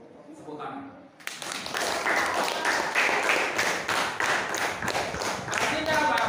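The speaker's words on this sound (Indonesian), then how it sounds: "Tepuk tangan." A primary school class applauding together in a classroom, a sudden burst of dense, sustained clapping from many hands that stays loud and near after a moment of quiet talk.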